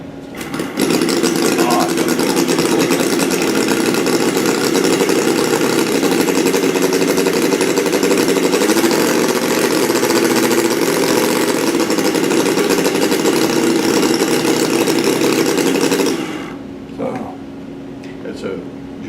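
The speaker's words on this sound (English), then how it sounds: "It's a genuine running little engine." A small straight four-cylinder model engine runs loudly and steadily with a dense buzzing, rapid firing drone, then cuts off abruptly, leaving a quieter hum.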